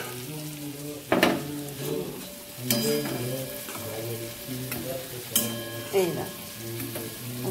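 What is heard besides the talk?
bora fritters frying in oil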